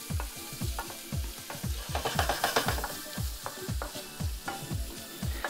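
Salted prawn and prosciutto linguine tossed around in a pan, with quick rhythmic scraping strokes repeating over a continuous sizzle, close by.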